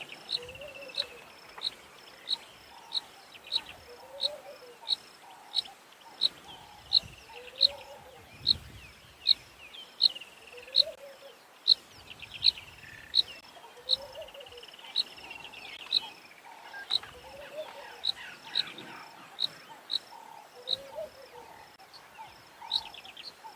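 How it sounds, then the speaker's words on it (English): Crickets chirp in a steady, evenly spaced pulse at sunset on an African safari by a drainage line, with scattered bird calls over a soft outdoor background and no talking. "I haven't heard anything other than bird calls and some insects."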